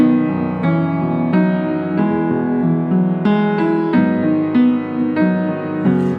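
Solo piano plays a slow, stately introduction to the hymn Great Is Thy Faithfulness, full chords changing steadily and ringing clearly with no voices.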